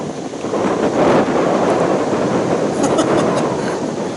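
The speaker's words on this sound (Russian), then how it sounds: "Нифига себе ветерочек." Strong, steady wind roars and buffets the microphone throughout, a continuous broadband rush with no voices.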